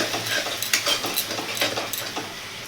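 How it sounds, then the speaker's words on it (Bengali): Masala for fish malai curry frying in a pan, a constant close sizzle broken by quick rhythmic scrapes and taps of a spatula, loud and alone with no voices. "এইটাও ভালো করে ভেজে নিব"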